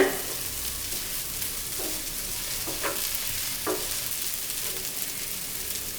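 Egg rice sizzles and crackles in a hot pan while a utensil stirs and scrapes a few times, close and fairly quiet.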